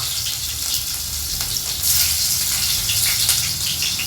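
Garlic sizzles in hot oil in a pan while green moong bhaji is made, a steady, close, hissing crackle that swells a little louder partway through.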